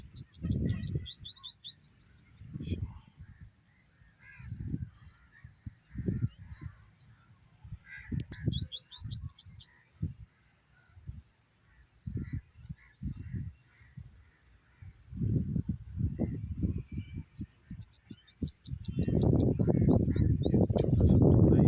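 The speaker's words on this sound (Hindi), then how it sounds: "ये देखिए यहाँ पर कौवे बहुत ज़्यादा हैं जी। और यहाँ पर देखें कबूतर वगैरह, ये दूसरे परिंदे वगैरह ये भी बहुत ज़्यादा आते हैं यहाँ पर।" Crows and pigeons call in the town of Laliyan, with bright chirping bursts repeating at intervals over a spread of low, uneven background rumble and thuds.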